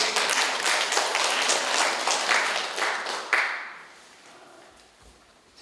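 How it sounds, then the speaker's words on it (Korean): A church congregation applauds together in a steady burst of clapping for several seconds, then the clapping fades out and leaves a quiet room. "한 박수 한번 쳐줍시다."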